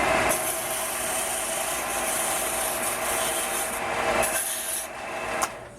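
Continuous close rubbing of sandpaper on a Native American flute made from natural materials, steady and fairly loud for several seconds, easing off near the end with a small knock.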